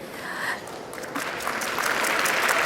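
Applause for Lynn, a longtime trustee and alumna, at an introduction event; steady crowd clapping that swells and thickens after the first second, continuous and fairly close.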